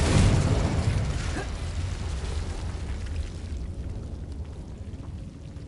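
Confringo blasting spells exploding in Hogwarts Legacy, a loud close burst and boom that slowly fades into a rumbling, crackling tail of debris, with no talking.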